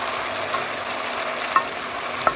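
Vegetables with soy sauce and fajita seasoning sizzle loudly in a pan while being stirred, a dense steady frying hiss broken by a couple of faint utensil taps, with no talking.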